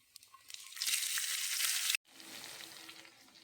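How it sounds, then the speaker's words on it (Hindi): Green chillies sizzle in hot oil with hing and fennel for an amla sabzi. A bright, steady frying hiss swells, cuts off sharply, then resumes more softly. "2-3 मिनट मिर्ची को हमने रोस्ट किया है।"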